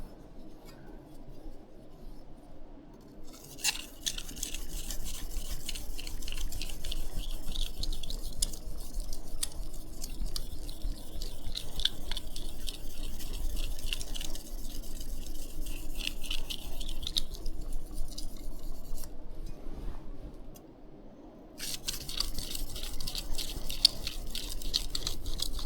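A knife blade scraping steadily across a lightly wetted 12,000 grit whetstone, a soft continuous hiss of back-and-forth strokes with brief pauses, close and fairly quiet with no talking.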